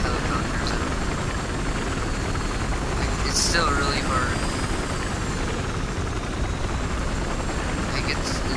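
A helicopter in the video game Battlefield Hardline drones with a steady rotor and engine roar throughout, with a person talking over it.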